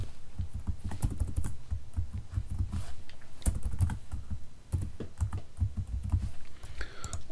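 Someone types on a computer keyboard while working in a spreadsheet, producing close, crisp clicking keystrokes in irregular bursts with short pauses.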